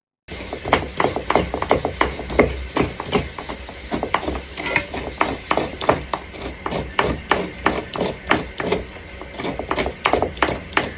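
Coconut being grated by hand at home, a close, rapid series of rhythmic scraping strokes repeating steadily throughout with no speech.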